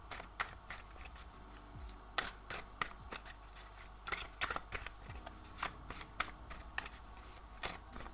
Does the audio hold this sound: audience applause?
no